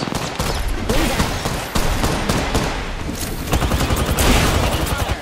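Gunfire in the video game To The Skies: dense, continuous bursts of rapid shots and blasts crackle loudly throughout, with faint speech underneath.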